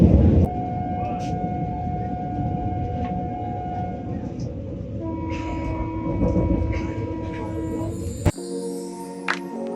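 Passenger train pulling into Kharagpur station, a loud continuous rumble of rolling carriages with tonal squeals and a horn-like hum that drops away near the end, leaving quieter platform sounds and a few faint voices.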